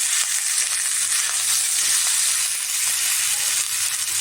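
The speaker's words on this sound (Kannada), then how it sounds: "ಸ್ವಲ್ಪ ಸ್ವಲ್ಪ ಬಾಡಿಸ್ಕೊಳ್ತೀನಿ ಹೀರೆಕಾಯಿ ಸಿಪ್ಪೆ ಹಸಿಮೆಣಸಿನ್ಕಾಯಿ ಸೊಪ್ಪು" Ridge gourd peel, green chilies and greens sizzle and fry steadily in a hot pan, a constant close hiss with faint stirring beneath.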